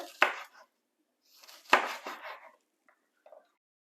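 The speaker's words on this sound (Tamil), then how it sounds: "இதை வந்து சின்ன சின்ன குட்டி குட்டி பீஸாக வந்து இப்படி வெட்டி எடுக்க போகிறேன்" A few crisp knife cuts through green beans on a board, chopping them into small pieces, close and distinct, with pauses between them and small soft taps at the end.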